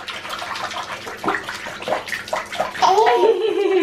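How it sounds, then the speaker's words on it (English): Child splashing in a bathtub, close and lively, with irregular sloshes and slaps of water, a young voice squealing and an adult speaking over it. "Are you gonna splash?"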